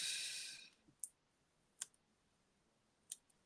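A strip of crafting tape rips off its roll in a brief crackling pull, followed by a few sharp isolated clicks and taps at close range in a quiet room.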